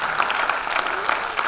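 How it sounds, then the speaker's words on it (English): Warm applause from an audience at a national patriotic project gathering, steady dense clapping filling the whole stretch at fairly low level, with no speech over it. "Can we just give them a warm applause?"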